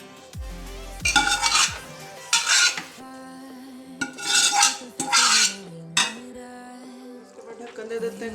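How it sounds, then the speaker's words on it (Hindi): A spoon scrapes and clanks inside a kadhai as kachnar keema is stirred and fried, in repeated bursts of metallic stirring with quiet gaps between them. "ये ना कुकर से मैं कढ़ाई में इसको वापस डाल रही हूँ ताकि सही तरह भुना जा सके"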